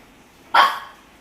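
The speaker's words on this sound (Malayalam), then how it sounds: "അതുകൊണ്ടാണ് അവൾ ഈ കുരച്ചുകൊണ്ട് നിൽക്കുന്നത് കേട്ടാ" A single dog bark from a female dog standing and barking at someone arriving at the house, one short, fairly close bark rising out of quiet background.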